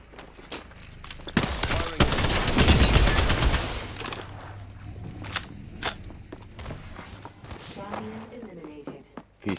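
Rapid bursts of gunfire in the Apex Legends battle royale, a dense volley clustering over a few seconds and then thinning to scattered single shots and footsteps, with players talking over the action.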